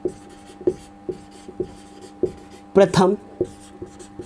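Chalk or marker strokes on a board during a Class 11 physics lesson on the equations of motion, a run of short, regular scratchy taps with a louder burst partway through, heard under a teacher's speech.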